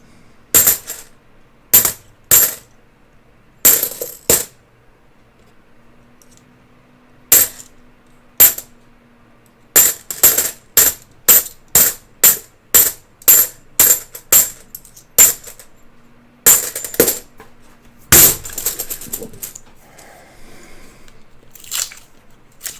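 Coins spill from unwrapped coin rolls in a long run of sharp, close metallic clinks and clatters, with brief crinkles of paper wrapper between them, each burst loud and separate with quiet gaps and no talk.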